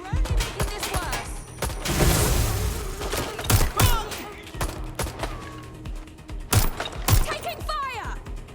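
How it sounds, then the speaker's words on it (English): Dense gunfire from Watch Dogs: Legion: bursts of rapid automatic shots and heavy thumps, loud and close, with occasional louder impacts and mechanical clatter, under brief shouted voices. "I'm taking fire!"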